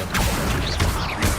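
Accio summoning spell cast in Hogwarts Legacy, a brief burst of whooshing, mechanical swishes and crackling impacts in quick succession, loud and close, with no voice.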